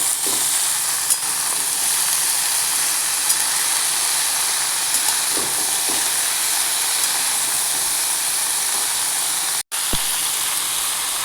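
Pumpkin and mixed vegetables fry in a pan with a steady, bright sizzle, broken by a few soft stirring scrapes and one brief sharp cutout near the end.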